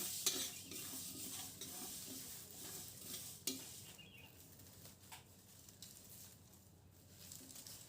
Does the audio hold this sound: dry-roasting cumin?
yes